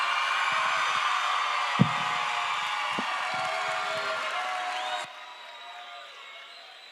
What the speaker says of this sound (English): Let's give our graduates another round of applause.